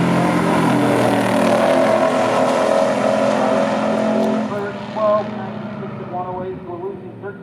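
A 1970 Chevrolet Chevelle SS454 LS6 and a 1970 Buick GS 455 Stage 1 drag race at a strip, their engines roaring loudly and then fading into the distance. A commentator talks over the engines.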